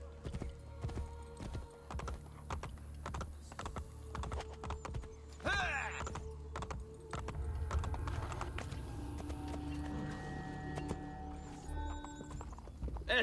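A horse gallops in Assassin's Creed Brotherhood, rapid rhythmic hoof clip-clops with a whinny, mixed with game music and keyboard clicking while someone comments in German.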